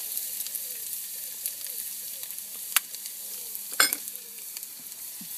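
Fresh ginger and garlic fry in a pan for a Durban curry, a soft steady sizzle broken by a couple of sharp metallic scrapes as the spoon stirs them around.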